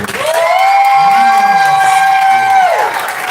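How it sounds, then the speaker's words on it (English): Pageant audience cheering and applauding, led by a loud, sustained high whoop or scream held for nearly three seconds over a roar of crowd noise and clapping, close and intense. "let's give a big, big round of applause for Club King K"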